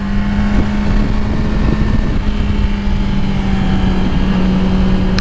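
Motorcycle engine running steadily after the clutch is pulled in and the throttle opened, a loud, close, constant drone with a strong low hum and wind rush, no voices.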